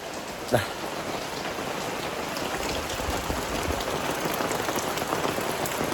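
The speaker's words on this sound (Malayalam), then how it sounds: "പക്ഷെ നല്ല മഴയാണ് പുറത്തുതാ കാണുന്ന സൗണ്ട് കേൾക്കുന്നുണ്ടോ അറിയില്ല" Heavy rain falls outside during a Karkidaka Vavu Bali gathering in Kerala, a steady dense hiss with a brief sharp knock near the start and no talking.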